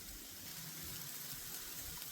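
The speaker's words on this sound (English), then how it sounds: "so now I'm going to wash my hands real quick" Water runs steadily from a tap while hands are washed beneath it, a continuous close hiss and splash with no pauses, in a home cooking setting.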